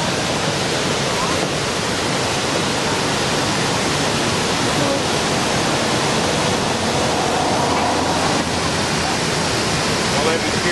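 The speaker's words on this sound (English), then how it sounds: "this is going to fill up with water" Water rushes down into a grist mill flume as it fills, a loud, dense, continuous roar like a waterfall that holds steady from start to finish, with no voices heard over it.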